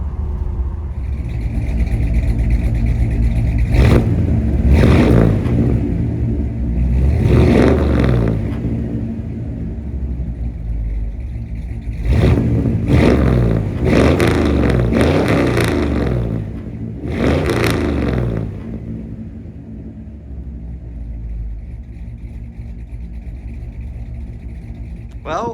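A 1964 Chevrolet Impala V8, jump-started after a year of sitting, cranks to life and revs repeatedly in loud surges over a steady idle rumble, up close, with a voice talking now and then.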